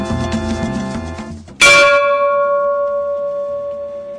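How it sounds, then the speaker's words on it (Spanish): A bell rings to announce that a meal is served at a chef tour in Ica, Peru: one loud struck clang that rings on and slowly fades, following quieter music. "La campana nos anuncia que la mesa está servida."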